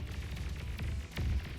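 A tank blows up during a top-tier 1v1 match in the strategy game Beyond All Reason, with two deep booming blasts about a second apart over a steady rumble of ongoing battle.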